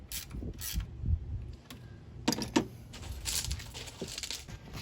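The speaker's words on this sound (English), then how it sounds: "Now tighten the nut down using your 13mm wrench." A nut being tightened with a 13mm wrench while replacing the vapor canister purge valve on a Chevy HHR, with soft metallic ratcheting clicks and scrapes, close and fairly quiet.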